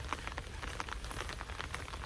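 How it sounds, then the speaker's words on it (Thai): Light rain falls outdoors in a watercress-picking spot abroad, a soft, continuous patter of close, scattered drops with no voices. "มันฝนมันตกแล้ว"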